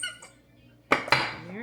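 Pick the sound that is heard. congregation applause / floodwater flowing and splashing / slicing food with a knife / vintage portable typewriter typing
slicing food with a knife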